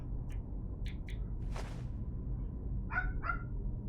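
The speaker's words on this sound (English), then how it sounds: "You hear that neighbor's dog?" A neighbour's dog barks in a few short, sharp yips at a distance, heard faintly over a low background rumble with a brief rustle in between.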